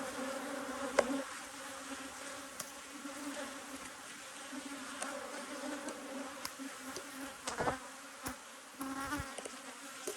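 Honey bees buzz steadily around an open hive during formic acid mite treatment, a continuous close hum with occasional individual bees passing loudly near.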